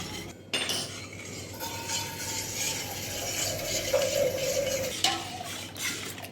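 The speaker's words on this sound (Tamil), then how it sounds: "உப்பு ஈவனாக கரையிறதுக்காக இந்த மாதிரி நல்லா கலந்து விட்டுட்டோம்னா உப்பும் ஈவனாக கரைஞ்சிடும்." Buttermilk being stirred with salt in a vessel, giving a steady close clink and scrape of a utensil against the container, with soft liquid swishing that runs continuously through the whole stretch.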